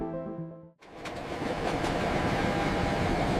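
A train rolls over a slip switch, a tonal hum cutting off abruptly into a broad, steady rushing roar with faint rhythmic clatter building as it passes.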